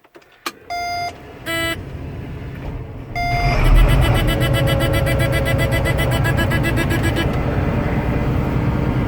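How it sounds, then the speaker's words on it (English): A combine harvester's engine oil pressure warning beeps in short repeated bursts, then a steady rapid beeping continues over the loud rumbling idle of the engine once it starts running. "it was beeping at me for engine oil pressure there for a little bit"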